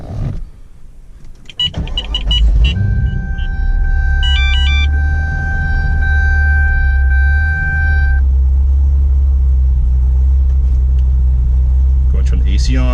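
A 2010 Chevrolet Corvette ZR1 is started after chimes and clicks: a loud cranking catch, then a deep, steady, rumbling idle close by, with warning tones sounding over the first seconds.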